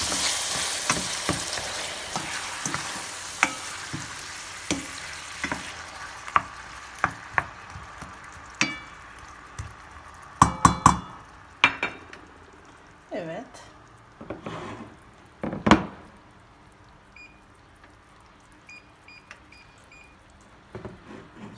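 Onions sizzle in a hot pan as frozen tomatoes are added, with a steady frying hiss, scattered stirring scrapes and utensil clinks against the pan.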